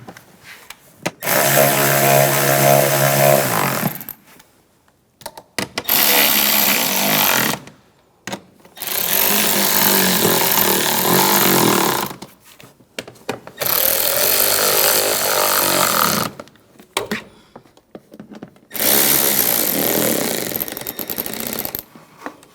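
A power tool drives ignition coil screws on a 2009-2013 BMW 328i xDrive engine, running in five loud, sustained whirring bursts separated by short pauses, close up with no talk.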